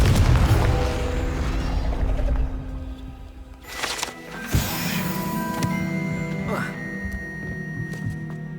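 A Confringo spell blast in the Hogwarts Legacy video game bursts with a sharp boom amid game music and magical effects, a loud impact mid-clip followed by ringing tonal shimmer.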